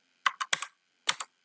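Keys clatter on a computer keyboard as code is typed, two short bursts of several close, crisp keystrokes separated by a brief pause, with no talking.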